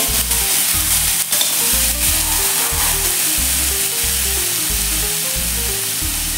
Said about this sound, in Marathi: मिरची 1 ते 2 मिनिट परतून घेऊया